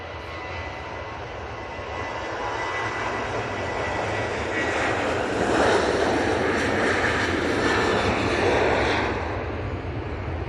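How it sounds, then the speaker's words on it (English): A Ryanair Boeing 737-800 jet takes off from Manchester Airport bound for Rome, its engines a steady broadband roar that swells toward the middle and holds loud for most of the stretch before easing slightly. "Ryanair 737-800 off to Rome."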